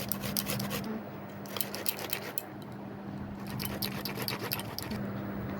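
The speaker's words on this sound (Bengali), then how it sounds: "আদাটাই ঘষে নিচ্ছি এর মধ্যে।" Ginger is grated over chopped tomato at home, making quick repeated scraping strokes close by under a faint steady hum. Short pauses break the rhythm now and then, and no one speaks.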